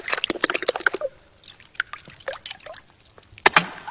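Water patted and flicked by hand as a musical instrument during a performance: a quick run of close, bright splashy taps at first, then sparser scattered drips and pats, with a final louder splash cluster.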